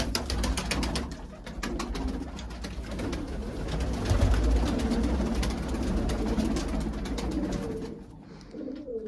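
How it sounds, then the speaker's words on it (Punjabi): Pigeons cooing close by in repeated low, throaty rolls, including a large white-eyed pigeon, several birds overlapping against a soft background murmur. "ਚਿੱਟੀਆਂ ਅੱਖਾਂ ਦਾ ਵੱਡਾ ਕਬੂਤਰ ਹੈ ਮੇਰਾ ਜਿਹੜਾ ਗੁੜਕਦਾ ਹੈ"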